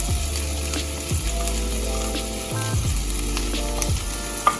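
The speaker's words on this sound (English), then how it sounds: "I'm gonna saute the vegetables first" Carrots and other vegetables sauté in a pan with a constant bright sizzle, joined by a low steady hum and several scraping stirs spaced a second or so apart.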